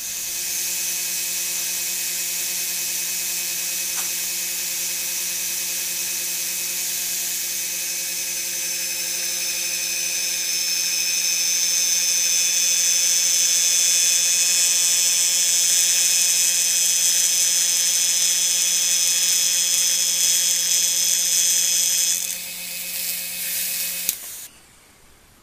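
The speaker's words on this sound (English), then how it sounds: "We'll put that back in this vacuum chamber." Vacuum chamber pump running steadily while degassing poured silicone, a constant loud mechanical hum with a whining tone that swells slightly midway, then cuts off abruptly near the end.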